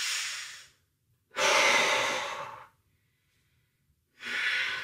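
Slow, deliberate breaths during a stability ball workout, close to the microphone. A short exhale fades out, then comes one long, full breath, a pause of near silence, and another breath begins. No speech is heard.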